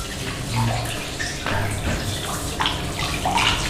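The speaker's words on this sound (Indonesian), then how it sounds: "Dibilas sedikit." Water splashes and pours continuously in a bathtub during a milk bath as someone is rinsed, a steady, close wash of sound with no talking.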